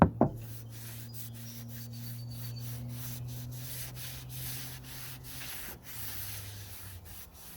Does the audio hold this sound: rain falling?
no